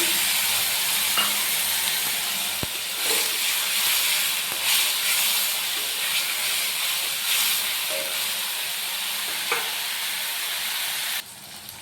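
Ground tomato paste and garlic frying in a pan for a Bhola fish curry, giving a steady close hiss and sizzle with occasional stirring scrapes and no talking.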